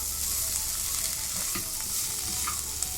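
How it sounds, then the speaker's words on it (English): Sweet corn, onion, tomato and masala are stirred together in a hot pan, giving a constant frying sizzle with light scraping as the mixture is mixed. No voices. "Mix this also with the corn."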